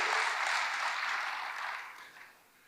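Soft congregation applause during a church service, a steady wash of clapping heard from a distance that fades out toward the end.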